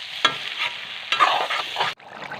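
Eel curry with bhedailota leaves is stirred in a pan, a close, continuous sizzle broken by a few scraping strokes before it drops away abruptly near the end.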